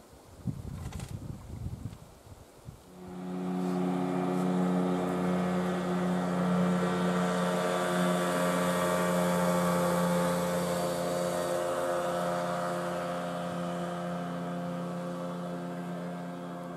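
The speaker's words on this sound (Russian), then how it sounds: "Лодки бегают туда-сюда" After a few seconds of quiet rustling, motorboats passing back and forth drone loudly and steadily nearby, then slowly fade as they move off.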